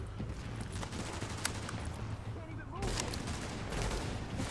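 Dense, sustained gunfire crackles through a firefight in the video game The Division inside the Lincoln Tunnel, with overlapping rapid bursts and occasional sharper shots echoing steadily throughout.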